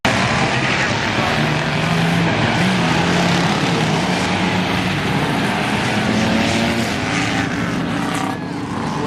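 Race cars at Langley Speedway during a red-flag period, a steady dense roar of engines and crowd noise filling the clip, loud and continuous with faint tonal engine drones running underneath.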